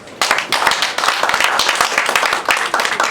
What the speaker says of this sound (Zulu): Shayelani ihlombe